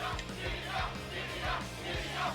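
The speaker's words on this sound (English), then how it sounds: "Sounds like the crowd's definitely on fire" A concert crowd cheers in the video game Tokyo Mirage Sessions, a muffled roar of many voices sitting under a loud, rhythmic music track with a steady thumping beat.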